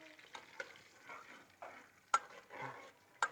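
Whole cumin seeds sizzle in hot ghee in a pan, a soft crackle with a few sharp clinks and scrapes of stirring, quiet and close, with no talking.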